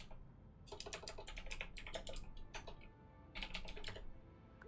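Quick, quiet keystrokes on a computer keyboard come in irregular bursts, typing a chat message during a Total War: Warhammer multiplayer game, with a short pause before another flurry. No one speaks.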